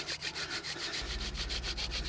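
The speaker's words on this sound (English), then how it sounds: "we use one of the oldest techniques on the planet called the hand drill" A wooden hand drill spun between the palms for traditional friction fire-starting, a steady rhythmic rubbing with quick regular back-and-forth strokes, close and fairly quiet, alone without talk.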